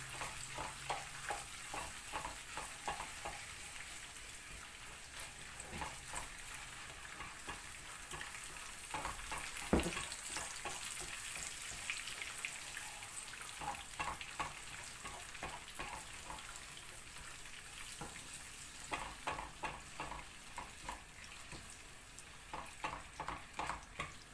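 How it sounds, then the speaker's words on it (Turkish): Garlic and tomato paste fry in a pan with a constant soft sizzle, broken by repeated bursts of stirring and scraping and an occasional clink of a pan, with no voices. "Sarımsak da mübarek hemen kavrulu veriyor."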